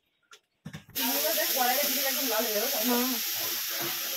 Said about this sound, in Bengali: এবার কড়াই বসিয়ে মানে চিংড়ি মাছটাকে ভেজে নিই